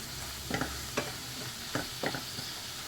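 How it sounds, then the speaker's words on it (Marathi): Ambadi leaf curry with coriander is stirred in a pan, a quiet steady sizzle broken by several distinct scraping spatula strokes at irregular intervals. "आता कोथिंबीर घालायची आहे मिक्स करून घ्यायचं एकसारखं करून"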